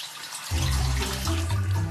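Cartoon shower running, a sudden strong rush of water starting after a quiet moment and continuing as a loud, steady, close hiss and splatter.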